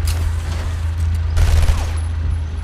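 Gunfire in the video game Batman: Arkham Asylum, a volley of loud blasts over a constant low rumble, with a heavier burst midway before settling back.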